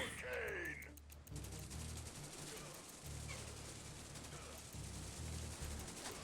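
Rifle infantry trading steady, rapid gunfire in C&C Rivals, a continuous crackle of small-arms shots under a talking voice.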